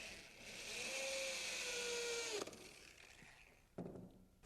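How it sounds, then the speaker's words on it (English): A power drill whirs steadily for a couple of seconds, drilling a pilot hole in plywood, its pitch rising slightly before it stops, followed by a quiet clunk and a sharp knock. "Then I drill a pilot hole for some screws."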